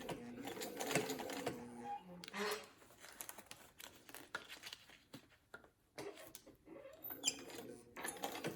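A sewing machine stitches a denim bag in quiet, uneven runs of rapid mechanical whirring and tapping, starting and stopping between bursts, with a faint voice at times.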